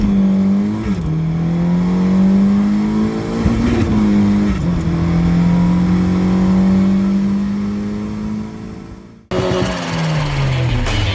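Car engine, a Honda D16Z6 with a Type R B18 throttle body on a ported intake manifold and turbo boost, revving loudly up and down in several swells, then a sharp cut and another rising rev.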